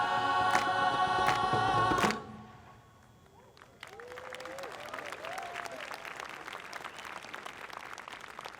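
At a university commencement, a sustained loud musical or choral passage cuts off abruptly. After a short lull, audience applause builds into a steady, moderately distant round of clapping, with a few voices calling out over it.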